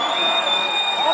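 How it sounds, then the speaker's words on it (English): A home crowd at a Major League Rugby match cheers and roars in a brief, steady swell, with a high whistle-like tone held across it. "The crowd willing the home side on"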